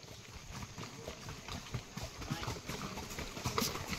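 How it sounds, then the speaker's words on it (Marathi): Horse running along a trail at Matheran hill station, hooves clip-clopping quickly and unevenly over a rustling background, with people talking nearby. "बरोबर धावल घोडा"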